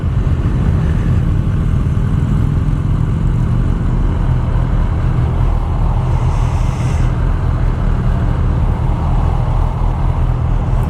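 A Kawasaki ZX10R 1000cc sport motorcycle on a test ride, its engine a steady loud drone mixed with heavy wind rush throughout, with no clear revving peaks.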